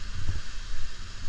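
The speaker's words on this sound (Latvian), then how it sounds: "Vējš tikai puš." Strong wind buffeting the microphone outdoors in Jelgava after a major storm, a steady low roar with gusty surges, close and continuous with no voices.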